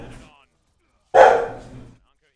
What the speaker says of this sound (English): My dog is now barking at the door.